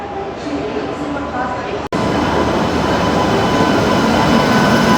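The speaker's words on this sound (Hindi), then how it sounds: "समता एक्सप्रेस का अराइवल हो रहा है।" The Samta Express, hauled by a WAP7 electric locomotive, arrives with a loud, steady rumble and wheel roar after a sharp break, the broadband noise building and holding close by.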